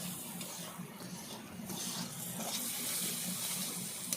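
A little water is poured into a pan of tomato-based masala for a samosa filling, making a continuous faint splashing trickle with a few small spatters and no voices.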